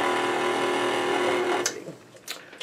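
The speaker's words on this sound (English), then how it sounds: "Stop the mixer." Electric kitchen mixer running steadily with a dense whirring hum for over a second and a half, then switching off, followed by a few light clunks and knocks.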